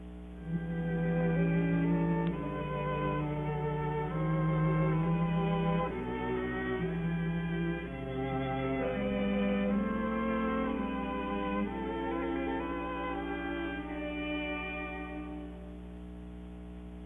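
A string quartet plays a slow, sustained phrase with warm vibrato on every note, the instruments blending smoothly at moderate volume with no voices, in a 1955 recording.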